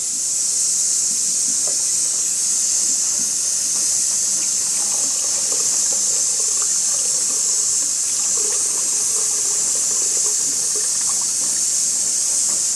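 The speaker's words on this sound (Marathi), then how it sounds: "ही डाळ आता स्वच्छ धुवायला पाहिजे." Running water steadily hisses over urad dal lentils as they are rinsed clean in a kitchen, a continuous close wash with faint scattered clinks and splashes.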